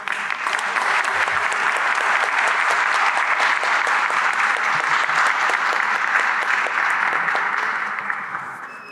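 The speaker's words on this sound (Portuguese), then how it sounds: "agradeço agora as palmas" Sustained audience applause following a lecture on Jewish immigration in the Amazon, a broad steady wash of many clapping hands that holds evenly before tapering off at the end.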